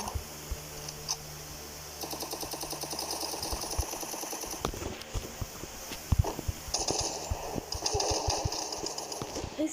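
Rapid gunfire in the Free Fire Craftland mobile game comes as dense bursts of sharp, clicky shots over a steady game soundscape, with someone talking at times.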